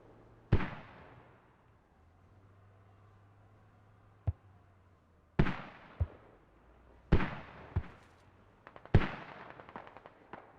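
Mortar shells explode in the Squad video game on the Chora map, with several sharp booming blasts in separate clusters followed by echoing rumbles and crackles, heard without talking.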